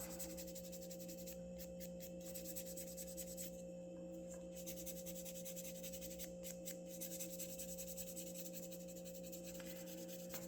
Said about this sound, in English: I know it's so riveting to watch somebody sand wood